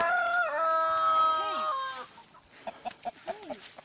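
Roosters at a cock fight crow loudly and close, a long drawn-out call, followed by sharp scattered clucks and squawks.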